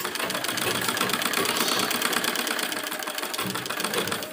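A sewing machine sews a sleeve onto a readymade Naira-style kurti dress, running in a loud, continuous, fast rhythmic whir close up.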